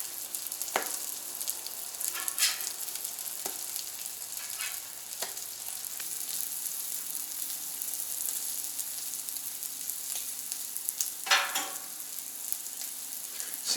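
French toast and sausage fry on a Camp Chef FTG600 flat top grill with a soft steady sizzle, broken by a few scrapes and clinks of a spatula flipping food, quiet and close with no voices.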